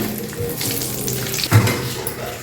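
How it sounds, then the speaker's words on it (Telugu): Curry leaves fry in hot oil for homemade snack mixture, giving a loud, close, continuous sizzle with faint stirring scrapes and one brief clatter, without any talking. "ఇప్పుడు కొంచెం కరివేపాకు వేయించుకుందాం. ఇవి కూడా బాగా వేయించండి, ఈ పచ్చిదనం పోయేటట్టుగా."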